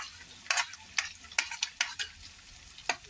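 Green chilies and onion are sautéed in a pan for masala rice, with about eight sharp scraping stirs of a spatula over a faint, steady sizzle.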